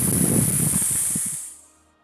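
A sharp, loud hiss sound effect in a narrated story rushes out steadily, then fades away over about a second and a half, with no one speaking.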